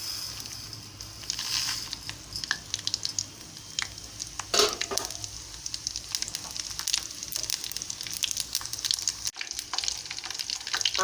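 Mustard seeds, cumin and garlic sizzle and crackle steadily in hot oil during tempering, with sharp pops and spits over a continuous close, bright fry.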